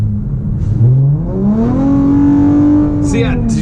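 A Chrysler 300 with a straight-pipe exhaust, set in sports mode, revs up loudly, its deep engine note rising and holding in a close, booming drone before easing off.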